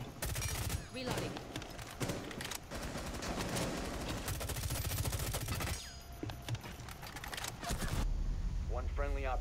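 Rapid gunshots and automatic bursts in Rainbow Six Siege on a yacht map, loud and continuous, with a quieter stretch near the end where a voice talks.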